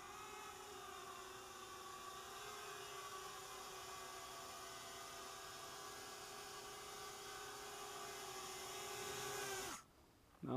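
A small engine on an MF 260 model aircraft drones at a steady high pitch for about ten seconds, buzzing with strong harmonics, then cuts out abruptly near the end.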